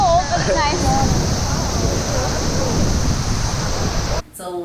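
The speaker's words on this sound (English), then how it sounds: "it's a huge waterfall" Roaring, hissing rush of the roughly 70-meter La Fortuna waterfall in Costa Rica, loud and steady close by, with faint voices at the start before the sound cuts off abruptly near the end.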